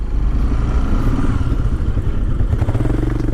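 A superbike motorcycle engine runs loud and close as the rider pulls in to park at a roadside dhaba, a rough continuous rumble with some clattering toward the end.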